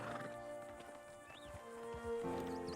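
Horse in Red Dead Redemption 2 clip-clopping at a walk, faint irregular hoof beats with a brief whinny-like call, set against quiet game ambience.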